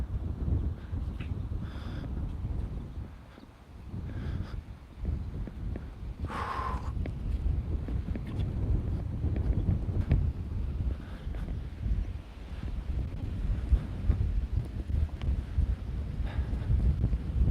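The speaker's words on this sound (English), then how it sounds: "the high wind is back right now" Strong wind buffets the microphone continuously with low, rumbling gusts that rise and fall, with no voices.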